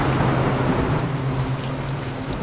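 Steady rain pours down outdoors, a dense, even hiss of drops hitting the ground that stays loud and continuous throughout, with no voices over it.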